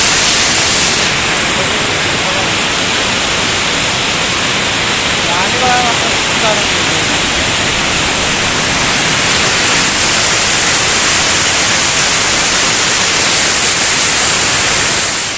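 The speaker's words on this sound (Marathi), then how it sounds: "बघू शकतात एवढा मोठा धबधबा आहे" A large waterfall at a dam roars as a dense, loud, continuous rush of water, steady from start to end with no break.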